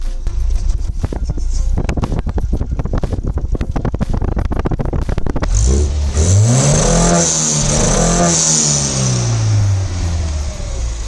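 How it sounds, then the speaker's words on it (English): A Volvo 340 engine bounces rapidly off an Omex hard-cut rev limiter in a loud stuttering burst, heard from the back, then its pitch swings up and down as it revs and drops. "that is a Omex Rev Limiter on the Volvo 340"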